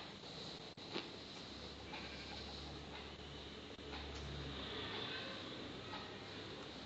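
A goat bleats in Minecraft Pocket Edition during a one-block survival game, with a low, wavering in-game bleat rising twice over a constant background hum, fairly faint and without speech.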